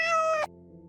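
A cat in a video game gives a single clear, mid-pitched meow lasting under half a second, then a quiet background hum continues.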